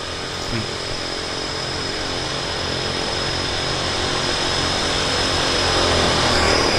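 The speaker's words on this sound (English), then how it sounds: "They're going to be marshalling that aircraft out here in just a second." A propeller aircraft at Vancouver Harbour Airport runs with a steady droning engine and a high whine, slowly growing louder over the span, with no talk.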